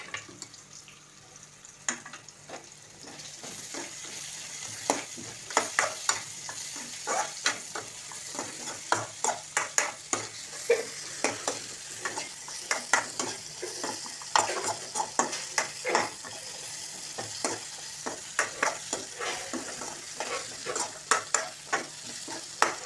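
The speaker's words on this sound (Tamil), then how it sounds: "நம்ம வந்து இந்த உருளைக்கிழங்கும் நல்லா வந்து அந்த எண்ணெயில் வந்து நல்லா வதங்கி வரணும்" Potatoes and onion sautéing in oil for egg podimas, a continuous close sizzle broken by many sharp spatula scrapes and taps against the pan in an uneven rhythm.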